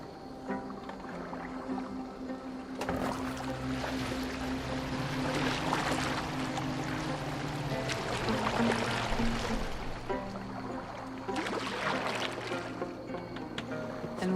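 Water sloshing and lapping as a wooden boat moves through water in Assassin's Creed Valhalla, a steady wash of splashes under a low ambient game score.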